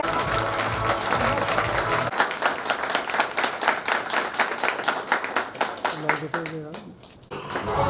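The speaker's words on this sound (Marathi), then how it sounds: "जोरदार टाळ्या वाजवा।" Audience at a group meeting claps loudly in a dense, sustained burst that fills most of the stretch, with a voice speaking over the applause.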